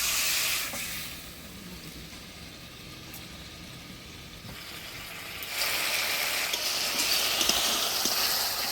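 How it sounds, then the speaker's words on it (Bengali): Spice paste of ground coriander, cumin and chilli with turmeric and salt hisses steadily in a pan as a little water is added, a broad sizzle that eases off, then swells louder partway through. "এবার অল্প জল দিয়ে মশলাটা ভালোভাবে কষিয়ে দেবো"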